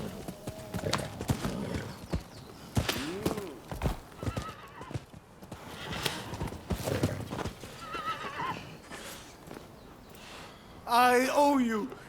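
Horse hooves clip-clop steadily through a Rise of the Ronin game scene, with a loud, close whinny near the end, while a voice talks over the hoofbeats.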